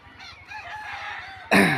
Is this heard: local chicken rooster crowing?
yes